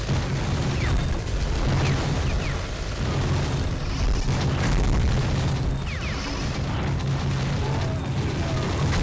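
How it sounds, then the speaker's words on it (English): Explosions and destruction rumble through a shooting gallery in Gungrave, a loud continuous barrage of booms, crashes and debris with mechanical clatter, recurring in waves over nine seconds. "that blew up in my face"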